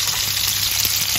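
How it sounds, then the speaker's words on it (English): Horse mackerel fries in a pan with a steady, dense sizzle and faint crackle of hot oil, close and continuous without talking. "I'm frying a few of the horse mackerel"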